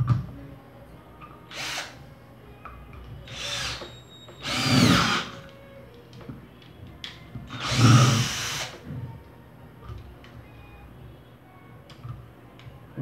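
Cordless screwdriver drill boring a hole in bursts: two short whirs, then two longer, louder runs around the middle, with faint clicking and handling noise between them.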